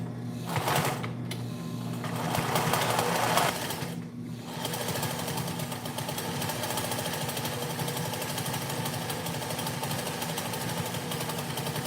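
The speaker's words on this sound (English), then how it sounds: "So let's go ahead and sew it down." A sewing machine stitches a fabric mask in quick, close mechanical bursts. It stops briefly twice early on, then runs in a long, steady rattling stretch.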